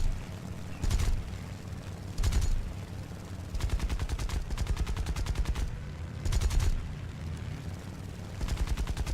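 Cannon and machine-gun fire from a Zero fighter plane in War Thunder during a Guadalcanal air battle, several rapid bursts of rattling shots in short and longer volleys over a steady engine drone.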